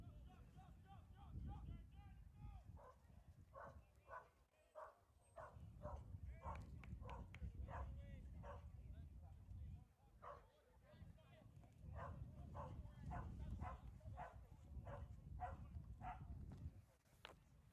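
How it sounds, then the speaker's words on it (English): A dog barks repeatedly at another dog near the commentary position during an amateur football match, Masters FA versus Windsor City FC, its sharp, fairly close barks coming in steady bursts over continuous commentary and crowd noise. "Our apologies, a dog saw another dog below us."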